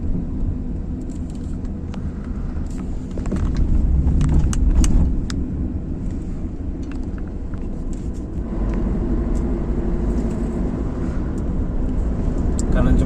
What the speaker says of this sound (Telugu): చూడండి బస్సు వస్తుంది.